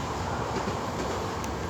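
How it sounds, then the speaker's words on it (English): Big freight train rolls past at close range, a continuous broad rumble of wagons on rails with a brief higher clank near the end, heard alone without talk. "Big old freight train going past."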